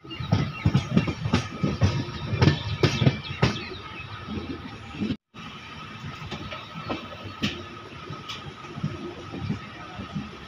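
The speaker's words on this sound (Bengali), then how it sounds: "ট্রেন আস্তে আস্তে চলে এসছে" An LHB coach train, the Howrah–Balurghat Express 13063, rolls slowly near Eklakhi Junction. Rhythmic wheel clatter and rail knocks are heard from on board, with a brief dropout midway before a steadier rumble resumes.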